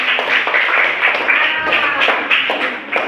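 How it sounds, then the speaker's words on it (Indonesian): A small group, likely a classroom, claps hands together in a busy, close burst of taps and claps, with voices chattering faintly underneath. "tepuk tangan dulu"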